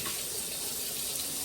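Running tap water pours steadily into a sink at home while a child plays in it, a soft, continuous splashing flow heard alone at low volume.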